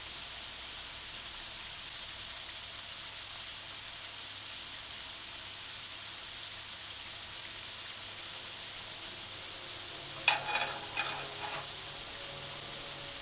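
Okra fritters fry in oil with a soft, even, rain-like crackle throughout, and a brief cluster of taps and clinks near the end.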